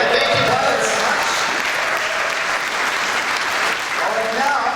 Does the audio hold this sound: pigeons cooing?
no